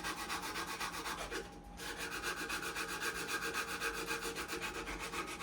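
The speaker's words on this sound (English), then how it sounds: "So we're doing this with 80 grit sandpaper." Steady back-and-forth rasping of 80-grit sandpaper rubbed by hand over a wooden stair scroll, blending the radius on the edges; continuous rhythmic strokes close up with one brief pause, no talking.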